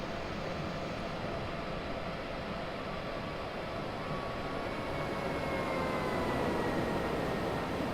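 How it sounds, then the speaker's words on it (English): A BR189 electric locomotive in Train Simulator 2015 slows to a stop on the Hamburg–Hanover line, giving a steady, loud broadband rumble and hiss with faint tonal whines rising toward the end. "let the train come to a stop."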